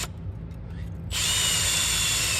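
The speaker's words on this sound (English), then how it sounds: "So I'm gonna drill these out so I can fit." Power drill boring out small bolt holes in car parts for a King of the Hammers off-road build: a faint whir, then a loud steady high-pitched drilling whine starting about a second in and running alone to the end.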